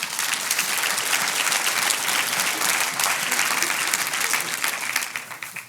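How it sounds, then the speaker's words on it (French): A church congregation claps together in a dense, even burst of applause that holds steady for several seconds, then begins to fade at the end. "Église, oui, on peut l'applaudir."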